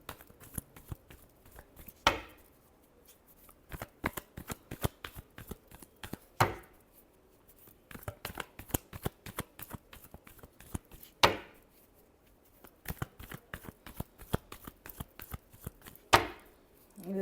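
Tarot cards being shuffled by hand in a rapid riffling, flicking rhythm, with three louder slaps or bridges at intervals, close and alone with no talk.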